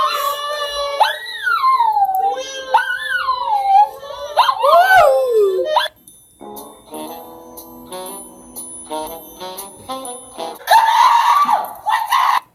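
A dog howls and whines in long, rising and falling wails, loud and close, followed by ringing, bell-like tones and then a burst of high yelping noise.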